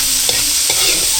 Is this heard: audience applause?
no